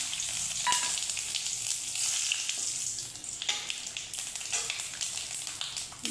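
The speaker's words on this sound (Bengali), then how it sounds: "ওই মাছ ভাজা তেলে শুকনো লঙ্কা, তেজপাতা, জিরে দিয়ে দেবো।" Dried red chilli, bay leaf and cumin sizzle in hot oil left over from frying fish, a close, steady crackling hiss with a few stirring scrapes.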